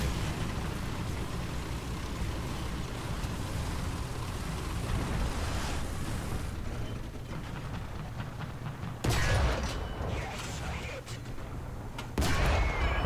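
BT-5 light tank gunfire in War Thunder, rumbling engine and distant battle booms building into sharper cannon bursts near the end, with talking over it.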